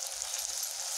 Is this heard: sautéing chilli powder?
yes